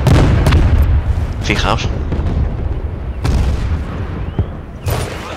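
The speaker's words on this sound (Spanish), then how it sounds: "Estos ataques de cohetes sí que me fastidian un poco" Rocket attack explosions in the online multiplayer game Medal of Honor: several loud booming blasts and sharp cracks at uneven intervals, with a rumbling tail between them, while a player speaks briefly over the battle.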